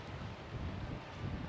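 Strong seaside wind on the coast at Cala Millor, Mallorca, as a storm builds, roaring steadily and buffeting the microphone with low rumbling gusts, no voices.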